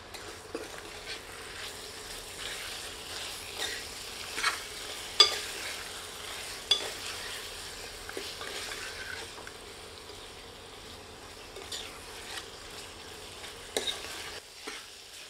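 Mutton and salt stirred in a pot for a walnut mutton curry, a soft sizzle under scattered scraping clicks of a ladle against the pot, close and fairly quiet, with no talking.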